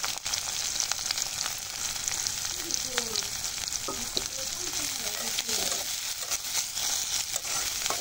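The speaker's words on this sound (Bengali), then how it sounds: "এখন পেঁয়াজটাকে লাল লাল করে ভেজে নেব" Chopped onions frying in mustard oil, a dense close sizzle with crackles and scraping stirring strokes throughout, steady and fairly loud, with no talking.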